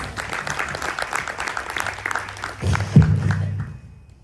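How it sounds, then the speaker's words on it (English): An audience at a Ganesh Chaturthi festival night claps briefly after an announcer's voice. The applause swells near the end and then fades quickly. "Please give him a round of applause."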